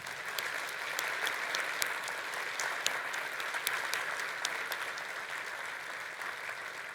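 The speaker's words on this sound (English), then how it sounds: "please, join me in celebrating her life with a round of applause for Samantha." Applause from a large audience at a conference keynote hall, a dense, steady burst of clapping that holds evenly throughout, fairly close and full.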